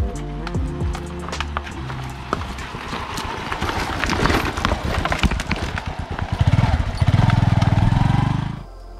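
A motorcycle rides down a narrow forest walking path in Belpahari, Jhargram. The engine revs and sputters unevenly with crunching bumps and rattles over rough ground, growing louder and more rhythmic toward the end before stopping.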